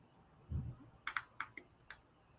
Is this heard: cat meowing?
no